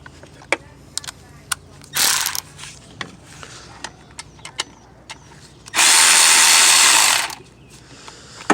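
Alternator bolts on a Honda Civic Si being removed with a powered ratchet on a 1/4-inch socket and adapter, two loud whirring bursts, one short and one longer, among scattered clicks and tool clinks.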